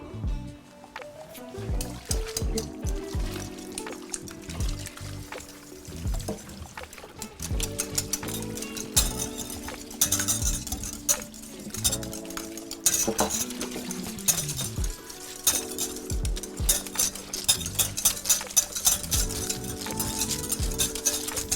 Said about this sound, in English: We're going to whisk together the pumpkin puree and the 2 eggs.